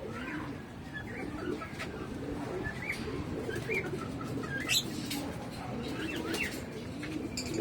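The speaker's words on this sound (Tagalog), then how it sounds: "Yan ang mga original ko na alaga na African bird." African pigeons coo softly in a loft, with low repeated murmuring calls and a few higher chirps and rustles. The birds sound fairly quiet and close, and no voice is heard.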